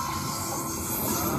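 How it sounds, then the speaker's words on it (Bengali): A train pulls into a rural station with a steady rumbling roar and a hiss of brakes, loud and close. "এতক্ষণে ট্রেন চলে এলো।"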